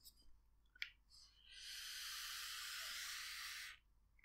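Vaping on a Digiflavor Drop RDA V1.5 at 50 watts with the honeycomb airflow open, a few faint clicks then a soft, steady airy hiss of a single draw lasting about two seconds, close and quiet.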